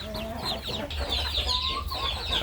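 Backyard chickens cluck and squawk close by, overlapping calls rising and falling continuously over a steady low farmyard rumble.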